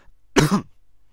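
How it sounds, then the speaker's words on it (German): A single short, throaty cough from a man, close to the mic, breaking an otherwise quiet moment. "ich musste gerade ein bisschen husten"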